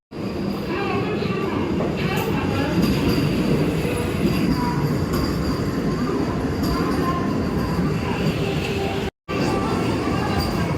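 A Vande Bharat Express runs at speed, heard from inside the coach as a loud, continuous rumble with rail clatter, broken once by a short cut in the sound, while people talk faintly.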